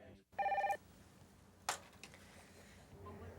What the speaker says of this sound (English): Let me get Mr. Sorensen on the phone, okay?